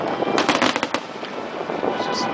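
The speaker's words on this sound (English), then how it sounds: "Fireworks." Fireworks burst at a St Augustine display in a quick cluster of sharp, loud cracks and booms, followed by scattered fainter pops over a steady crowd-and-crackle background.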